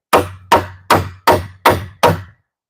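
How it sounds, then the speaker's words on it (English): Six sharp hammer blows strike wood in a steady, evenly spaced rhythm, each a loud close knock with a quick decay, during building construction. "don't hammer towards yourself"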